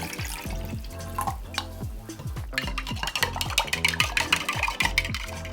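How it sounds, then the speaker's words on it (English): A spoon stirring water into glitter bubble tea mix in a cup, producing a rapid series of clinks and scraping swirls, close and steady, with no talking. "We're just gonna pour it in here and give it a really good stir until all is combined"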